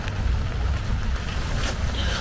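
Steady, loud rush of wind buffeting the microphone during a rainstorm, with deep low rumbling throughout and no voices.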